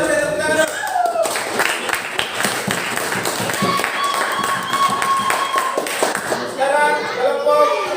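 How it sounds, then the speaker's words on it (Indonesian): A classroom of students clapping for a group that answered correctly, uneven hand claps starting after a voice and running for several seconds, with speech returning near the end. "Kita beri tepuk tangan dulu"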